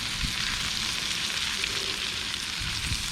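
Oysters sizzling as they fry in a hot pan, a steady dense crackle and hiss with small pops, close and continuous throughout.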